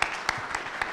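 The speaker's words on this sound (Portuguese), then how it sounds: "Uma salva de palmas." An audience at a business talk on agile organizations claps to welcome the speaker. The applause is an even, continuous wash of many hands, with a few louder individual claps standing out.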